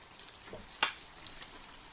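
Onion frying in a pan with meat for Uzbek mashkichiri, a quiet soft sizzle with a few sharp crackles and pops, one louder spatter near the middle, no talking.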